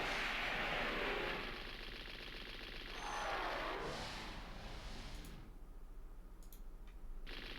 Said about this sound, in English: gonna shoot something here